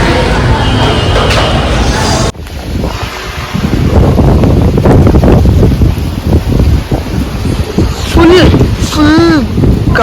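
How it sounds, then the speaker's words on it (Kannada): Strong wind buffets the microphone outside a newly moved-into house, loud roaring gusts that dip briefly and then return, with people talking over it toward the end. "ಫುಲ್ ಗಾಳಿ ಹತ್ಕೊಬಿಟ್ಟಿದೆ."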